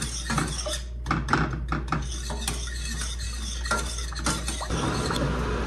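A mixture stirred in a pot on low heat, a spoon or whisk scraping and clinking steadily against the pot with rhythmic strokes, close and clear with no talking.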